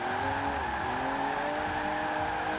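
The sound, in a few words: rear-wheel spin of a car in Forza Horizon 4 video game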